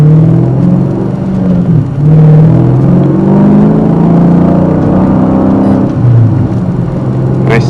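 Loud, close exhaust rumble from a Dodge Challenger SRT8 V8 with a manual gearbox, a steady deep drone shifting as the revs rise and settle, with no talk over it.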